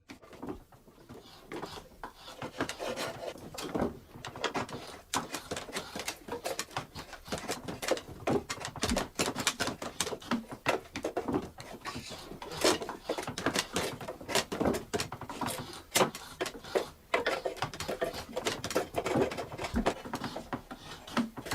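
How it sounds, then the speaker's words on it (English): A draw knife shaves along a wooden board for a hand-made rake head, giving a steady run of dense scraping, rasping strokes at close range, with no talk. "He straightens the board with the draw knife, whereby the rake head is sharpened."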